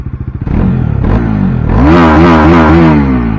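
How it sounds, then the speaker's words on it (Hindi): A Bajaj Dominar 400 motorcycle engine idles with a thumping pulse, then revs up loudly several times in rising and falling bursts, very close. "आपको साउंड सुना देते हैं पहले दोनों बाइकों के"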